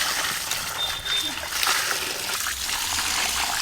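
Water pours and splashes continuously at a home pond while fish are being caught, with a steady wash of noise throughout.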